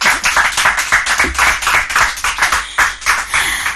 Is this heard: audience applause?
yes